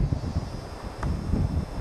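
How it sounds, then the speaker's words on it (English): Bush plane engine droning during an Alaska hunting trip, a steady low roar heard from a distance with wind buffeting the microphone. "Heard the roar of the plane."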